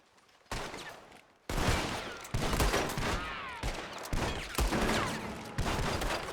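Dense rifle and pistol fire bursts through a window in Red Dead Redemption 2, starting after a short quiet lead-in, then loud overlapping volleys with sharp repeated cracks that continue throughout.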